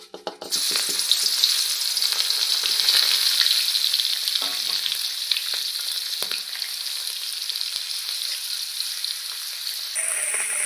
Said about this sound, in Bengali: কড়াইয়ে তেল দিয়ে তেল গরম হয়ে গেছে দিয়ে দেবো মাছ